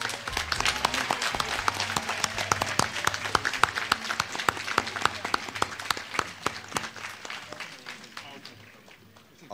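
Audience applause fills a graduation commencement ceremony, a dense sustained roar of many hands clapping that holds steady for most of the stretch before thinning out near the end.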